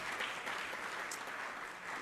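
Faint, steady applause from a temple fundraiser audience, distant-sounding clapping holding for a couple of seconds without talk.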